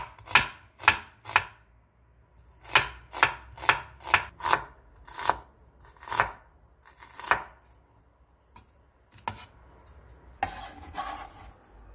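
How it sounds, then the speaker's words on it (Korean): Knife thinly slicing onions on a cutting board for kimchi, crisp near chopping strokes in uneven bursts, about fifteen cuts with short pauses, quiet between strokes. "양파 2개를 3-4cm 정도 길이로 얇게 채 썰어주세요."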